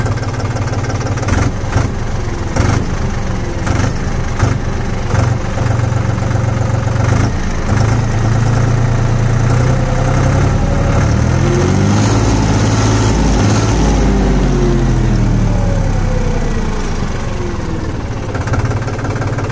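A Farmtrac 45 Ultramaxx 47 HP 4WD diesel tractor engine idles loudly and close, a steady low rumble with knocking, briefly rising and falling in pitch midway.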